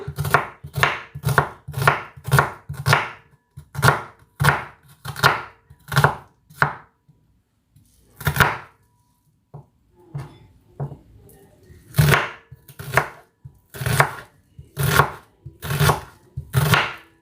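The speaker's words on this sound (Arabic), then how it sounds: "هنايا خديت واحد البصله حتى هي نفس الشيء غادي نقطعها" An onion being chopped thinly with a knife on a board, a rapid series of crisp close knocks in bursts, with a short pause in the middle before the rhythmic chopping resumes, and no talking.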